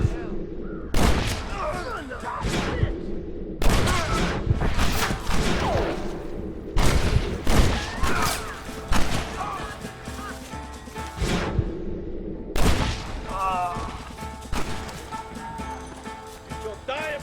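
Gunfire during a gate assault in the video game Red Dead Redemption: repeated loud shots and bursts crack over a steady battle din, with voices shouting between them.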